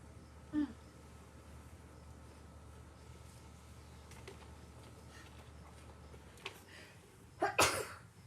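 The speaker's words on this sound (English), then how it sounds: "I'm gonna sneeze." A single sharp sneeze bursts out near the end, after a soft earlier throat sound against quiet room noise.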